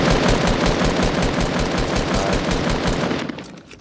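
Rapid automatic gunfire from the video game Fortnite rattles out in a dense, steady burst for over three seconds before tapering off, loud and close with no talk over it.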